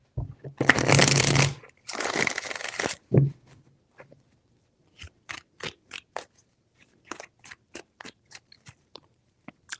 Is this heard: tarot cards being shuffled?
yes